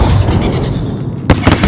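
Explosive boom from a grenade in the video game Call of Duty Modern Warfare, a sharp loud blast bursting over constant battle rumble, followed by a second smaller pop moments later.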